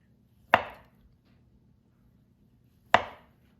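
Knife chopping through precooked polenta log into half-inch rounds: two crisp, isolated cuts about two and a half seconds apart, close and fairly loud against a quiet kitchen background.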